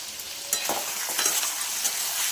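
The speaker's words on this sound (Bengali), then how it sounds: "সব কিছু দেওয়ার পরে আবার ভালো করে কষিয়ে নিচ্ছি।" Chicken sautéed with ground coriander, cumin, garam masala, turmeric and Kashmiri chilli powder is stirred in a pan, a soft hissing sizzle with a few scraping strokes of a spoon, close and fairly quiet.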